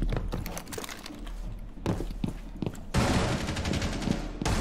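Gunfire in a Rainbow Six team deathmatch game, with dense bursts of rapid shots and loud sustained volleys that swell toward the end, and no voices over them.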